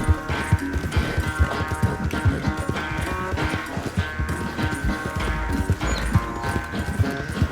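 Rapid rhythmic hoofbeats of a galloping horse in Red Dead Redemption 2 drum under loud, busy game music and effects.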